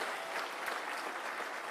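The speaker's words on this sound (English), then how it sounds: "To our President, a round of applause kindly" Dense, steady applause from an audience honoring the President during a call centre inauguration, fairly soft and continuous with no voices over it.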